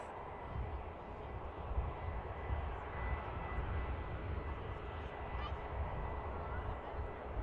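An EasyJet airliner taxis at Manchester Airport, its engines giving a steady, distant, low jet rumble and whine that lasts throughout.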